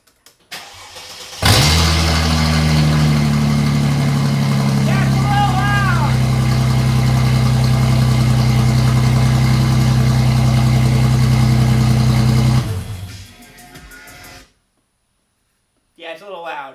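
A Mercedes C32 AMG with custom exhaust running only downpipes into a Y-pipe and no muffler cranks and fires, then settles into a loud, deep, rumbling idle close by for about ten seconds before shutting off.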